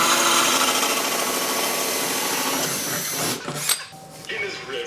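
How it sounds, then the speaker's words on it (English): A power tool setting a rivet during a motorcycle build whirs loudly and steadily for about three seconds, then cuts off, followed by a few scattered clunks and workshop noise. "Getting this rivet on."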